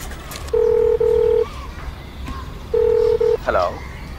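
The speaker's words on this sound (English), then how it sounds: "It dials and it picks up." Telephone keypad dialing tones on a phone, two bursts of steady beeping tones with a short ringback-like chirp at the end, clear and close with faint background noise.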